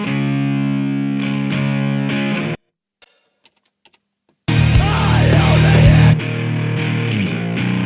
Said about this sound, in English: The Subdecay Supernova Drive, which is a really great sounding overdrive distortion